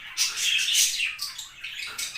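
A young budgerigar chirps in quick, high, raspy bursts, close and fairly loud, with no talking.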